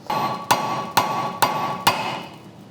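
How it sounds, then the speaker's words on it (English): Four sharp metallic hammer strikes at an even pace, loud and close, ringing over a steady background hum, as a tie rod end is knocked loose on a 2004 Chevrolet Silverado. "we're actually gonna try and bang it out with a hammer"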